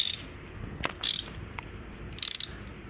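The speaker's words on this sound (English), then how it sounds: "I'm going to finish tapping holes on this" A hand tap cutting threads in holes on a 1978 Ford F-150 build, giving a few sharp ratcheting clicks in short bursts, close and fairly quiet between pauses.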